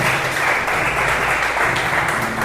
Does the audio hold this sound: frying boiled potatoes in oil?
no